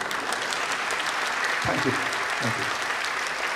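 Seminar audience applauding in a hall, continuous even clapping from many hands throughout, with a voice briefly speaking over it near the middle.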